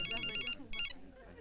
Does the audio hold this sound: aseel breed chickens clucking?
no